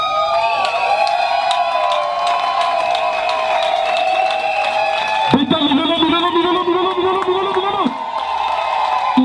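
A large crowd at a civil wedding claps and cheers steadily throughout, with shouts and a sustained sung or whistled tone rising above the noise.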